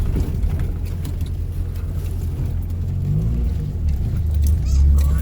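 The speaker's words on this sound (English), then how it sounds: "Thank God for the shitty beater Mazda pickup." An old, beat-up Mazda pickup truck driving, with a steady low engine rumble and road noise close by from inside the cab, swelling slightly toward the end.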